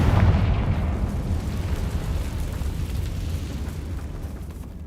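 A Confringo spell explosion in the video game Hogwarts Legacy produces a loud, deep fiery boom that rumbles and slowly fades over several seconds.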